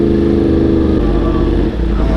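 A Yamaha R1 motorcycle engine runs up close with a loud, throbbing idle. Its pulsing rhythm shifts slightly partway through.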